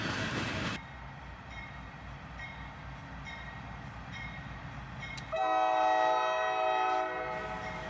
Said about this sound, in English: we'd catch this pair of GEs cruising by right after sunrise